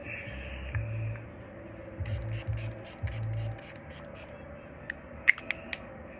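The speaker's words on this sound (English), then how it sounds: "Just a little light mist." A makeup setting spray bottle lets out several short misting puffs, close and fairly quiet over a low room hum, with a few small clicks of handling near the end.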